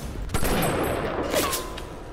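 Gunfire from a weapon in the video game Bioshock crackles in a quick burst of several sharp shots, loud and close over a busy game background.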